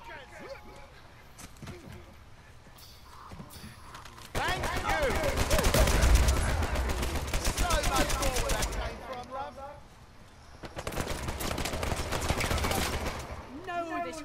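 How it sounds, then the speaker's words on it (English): Rapid bursts of gunfire in Uncharted 4 multiplayer, loud sustained volleys in two stretches with quieter gaps between, heard alongside someone talking. "Somebody's firing over here."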